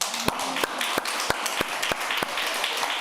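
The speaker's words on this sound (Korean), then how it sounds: "우리 박수 한번 쳐줘." A church congregation at a Wednesday Bible study gives a short round of applause, with scattered sharp claps standing out over a steady wash of clapping.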